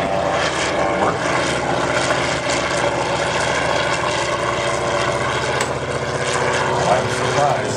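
Classic propeller aircraft at an air rally, a steady droning engine and propeller hum that holds evenly throughout, with someone talking over it.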